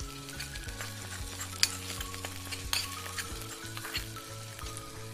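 Fried anchovies tipped into a pan of gravy sizzle steadily, with a few sharp clinks of a utensil against the pan over a continuous frying hiss.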